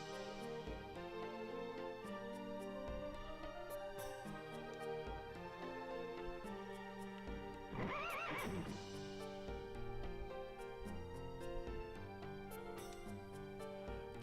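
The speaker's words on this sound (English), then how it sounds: "So, does this game call their horses chargers?" A horse in the video game The Legend of Dragoon gives a short whinny midway through, set against steady, layered in-game music.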